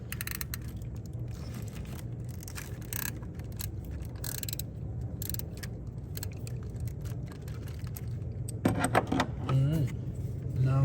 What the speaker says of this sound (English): Currently use a socket and ratchet there because this is in the way.